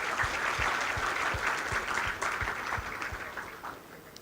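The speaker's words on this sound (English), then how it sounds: "A big round of applause for all these students." Audience applause for students at a Teachers' Day celebration, steady moderate clapping from a seated crowd that tapers gently over about four seconds.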